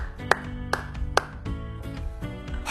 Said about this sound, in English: my two-hand clapping has been appreciated here, Sarah